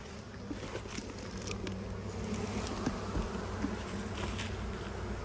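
Honeybees hum and buzz around an opened hive in October, a steady close swarm drone with occasional nearer passes and light tapping, no speech.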